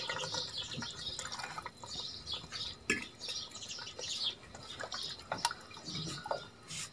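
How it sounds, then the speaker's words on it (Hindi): Water splashes and trickles into a pot of beef and potato broth, with soft dripping and gurgling sounds, fairly quiet and close, with faint background noise. "अब इसमें पानी डाल दिए"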